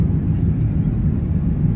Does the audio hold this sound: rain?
no